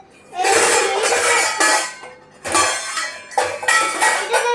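Metal pots and pans clank and scrape in several bursts in a home kitchen, close by, with a brief cough between them.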